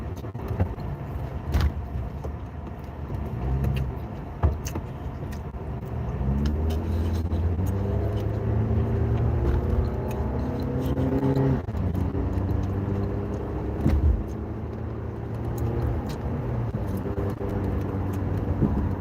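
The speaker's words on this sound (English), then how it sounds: "We got all this traffic in the morning." Morning road traffic with a nearby vehicle engine droning and rising in pitch as it accelerates past, over a steady background rumble of other cars, with occasional sharp knocks and clatters.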